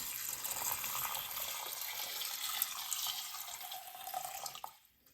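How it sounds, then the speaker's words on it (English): Two cups of distilled water pour from a small measuring cup into a pot for homemade elderberry syrup, a steady close splashing rush that runs for several seconds, then tapers off and stops. "So next thing we're going to do is add 2 cups of that distilled water."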